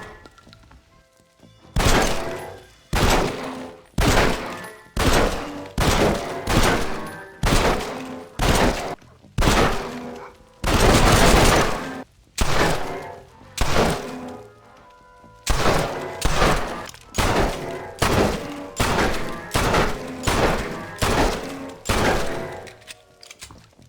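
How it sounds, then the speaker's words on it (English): A piano at Beecher's Hope in Red Dead Redemption 2 being shot, producing a long series of loud, sharp gunshot bangs in quick bursts, each ringing out with a jangle of piano strings. "the piano at Beecher's Hope will make noise if you shoot it or throw stuff at it"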